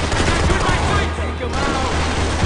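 Dense automatic gunfire fills a Max Payne 3 firefight, with loud sustained bursts and overlapping shots and a short dip in the middle. Voices shout under the shooting.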